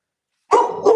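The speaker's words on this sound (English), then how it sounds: "Oh, look, here comes the dog." A dog gives a single short, close bark followed quickly by a second softer yip after a moment of silence.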